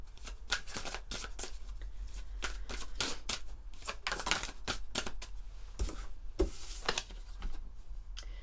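Venice Witch oracle cards handled and shuffled close up, a steady run of soft riffling and flicking snaps with no talk over it.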